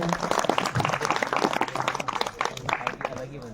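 Applause rises at a farewell ceremony for Shri Gyan Singh Chauhan in Bharetidhar, with scattered claps mixed under someone speaking over a loudspeaker.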